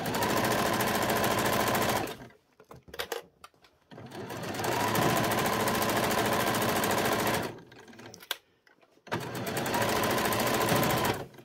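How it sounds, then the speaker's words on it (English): A sewing machine stitches a hem along the folded edge of a pyjama top, running in three steady, loud bursts separated by short pauses. "pop it under the machine, close to this folded edge here, and get your hem on"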